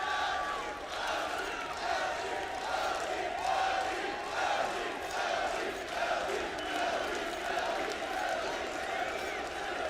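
A large arena crowd at the CS:GO MLG Columbus 2016 Major final between Luminosity and NaVi on Overpass roars and cheers continuously, a broad, steady wash of noise under commentators talking.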